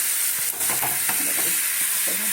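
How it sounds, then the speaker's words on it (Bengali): Potatoes go into a pan of fried masala for vegetarian aloo dum, giving a dense close sizzle with scraping stir strokes and a few clattering knocks, no one speaking. "মশলাটা আমার কষানো হয়ে গেছে এইবারে দেবো আলু"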